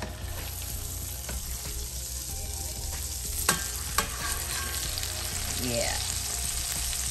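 Pan drippings poured into a pot holding browned beef pot roast on the stovetop, a continuous close, loud sizzle with stirring scrapes and a few clinks, a brief spoken word over it.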